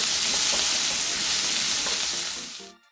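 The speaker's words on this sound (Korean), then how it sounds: "1분 정도 볶아주고" Garlic and cherry tomatoes stir-frying in olive oil over medium-low heat, a loud, steady, dense sizzle close up that dies away abruptly at the end.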